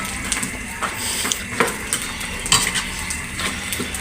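Spoon scraping and clinking in a pot of ginisang monggo, a sautéed mung bean stew with chicharon and squash, in repeated soft strokes over a gentle simmering sizzle, close and moderately loud.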